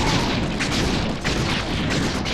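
Rapid shooting at the boss Mugshot in the Sly 3: Honor Among Thieves video game, a dense, continuous burst of booming shots that fills the whole stretch with no pauses.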